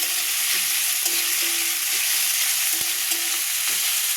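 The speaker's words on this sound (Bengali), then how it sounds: "আলুটা একটু ভাজাভাজি করে নেবো" Chopped potatoes frying with garlic in a hot pan give a dense, even sizzle, broken now and then by soft scrapes and one sharp tap of the spatula, close up and without any voice.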